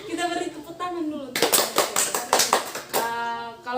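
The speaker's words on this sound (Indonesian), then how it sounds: "Kita beri tepuk tangan dulu." A small counseling group claps hands together in a room, about two seconds of quick, fairly close clapping that starts abruptly and trails off. Voices speak before and after it.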